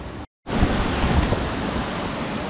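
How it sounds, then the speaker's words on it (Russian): Rushing water near a connected system of waterfalls in Tashkent, Uzbekistan, a dense steady roar after a brief dropout at the start, close and continuous with no voices. "Что-то начала вода журчать"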